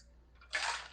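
A drink is poured over ice in a glass: a brief, bright splash and trickle that starts suddenly after a faint clink and runs for about half a second, close by.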